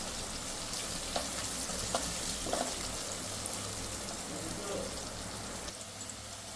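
Chopped onions and curry leaves sizzle in oil in a pan for a chicken curry, a steady soft hiss with occasional light scrapes of a spoon stirring.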